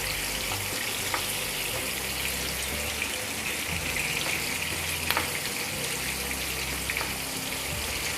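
Onion frying lightly in oil makes a constant close hiss with faint crackles and the occasional clink of a utensil, without speech.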